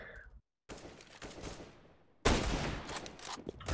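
Gunfire in a first-person shooter video game, with a brief burst early on, a short silence, then quieter shots and a louder stretch of rapid overlapping gunfire at the end.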